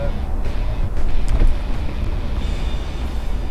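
A Toyota Revo Rocco pickup truck engine accelerates from inside the cab, a loud steady low rumble and road drone that swells briefly, with no voices heard.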